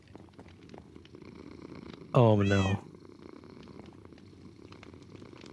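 Minecraft cat purring in game: a loud, close, harmonic-rich burst lasting under a second, rising out of steady game background hum, with a brief spoken exclamation nearby.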